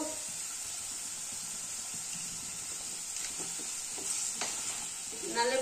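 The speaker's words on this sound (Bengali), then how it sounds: "আমি এর মধ্যে এখন এক এক করে হলুদ দিয়ে দেবো" Turmeric and ground spices frying in a pan for a spicy fish curry, giving a steady, fairly quiet sizzle and hiss throughout, with soft stirring scrapes and a slightly louder stir near the end.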